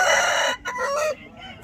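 A rooster crows loudly and close by at a rooster market in Nallapadu, one long strained call that breaks off and trails into a shorter, fainter tail.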